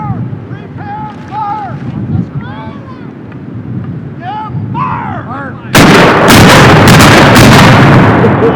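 A War of 1812 cannon fires at a reenactment of the Battle of Longwoods. Outdoor ambience with birdsong runs first, then one very loud blast with a long, rolling roar follows.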